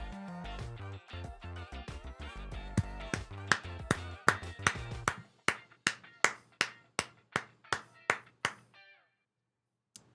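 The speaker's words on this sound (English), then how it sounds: "I'm kind of clapping just because we were able to make the sale." Hand clapping, a string of sharp claps in a steady rhythm that rings out clearly after dense music and game sounds fade, ending in silence.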